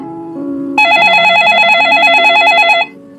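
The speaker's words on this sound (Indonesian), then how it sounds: "Mas, ponselnya dari tadi berdering." A phone rings with a warbling electronic trill, loud and close, sounding in rapid repeated pulses for about two seconds.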